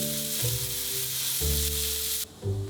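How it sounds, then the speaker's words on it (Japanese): Shimeji mushrooms, carrot, green pepper and cod being gently stir-fried in a pan, giving a continuous close sizzle with a few soft stirring scrapes and no talking. "しめじ、人参とピーマン、タラの身が崩れないように優しく炒めます"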